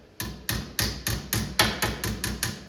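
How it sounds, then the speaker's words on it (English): Nine light, even taps of a flat-faced body hammer work dents out of the thin metal of a Galaxian arcade cabinet, each strike a sharp close ringing knock in a steady rhythm. "I grabbed a little body hammer here"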